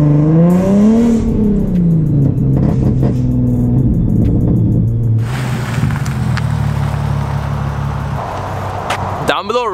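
A Nissan 370Z on sandy ground builds revs and holds them on 2-step launch control with a loud, wavering engine drone, then launches with a deep roar that pulls away, ending in a sharp burst.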